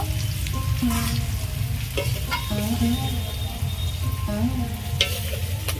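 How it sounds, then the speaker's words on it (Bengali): Pieces of young green jackfruit fry in hot oil with a steady, loud sizzle, broken by a few clinks and scrapes of a spatula stirring in the pan. "ভালো এঁচড় ভাজা হয়ে গেছে তুলে নেব"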